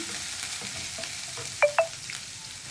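Egg masala curry base with ginger-garlic paste frying in a pan over medium heat: a soft continuous sizzle with two quick, close utensil scrapes partway through.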